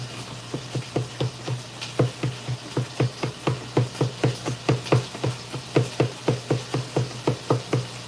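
Knife steadily chopping ingredients on a board while cooking Mexican rice, a quick, even rhythm of close, crisp taps over a low steady hum in a home kitchen.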